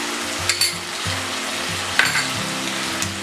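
Chicken chilli stir-frying in a pan with soy sauce and Schezwan sauce, a steady close sizzle running throughout while a spatula scrapes and tosses the pieces a few times; no voices.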